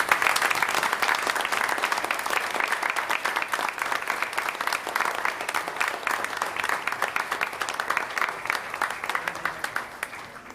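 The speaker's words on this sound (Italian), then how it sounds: "Vorrei dedicare un applauso proprio a lei." Audience applause at an Italian comedy theatre performance of Casa Campagna, with steady, dense clapping filling the hall at a constant level throughout, with no voices over it.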